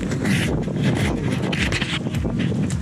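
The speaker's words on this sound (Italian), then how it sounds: "C'è vento più che altro." Strong gusty wind in snowy weather buffeting the microphone, a continuous loud rushing roar with fluctuating bursts.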